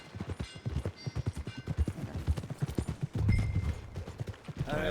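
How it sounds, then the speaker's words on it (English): Rhythmic clip-clop of horse hooves trotting at a steady pace in Red Dead Redemption 2, close and distinct, with a brief mechanical rumble near the end. "Buy yourself a horse."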